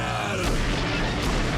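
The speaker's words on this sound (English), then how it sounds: "Man the cannons!" Heavy booming blasts like cannon fire, dense and loud, with sharp bursts landing amid a continuous rumbling roar.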